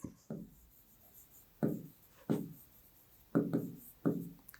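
Chalk or marker writing on a board during a maths lesson, heard as six short, close scratchy strokes in an uneven rhythm with quiet gaps between them.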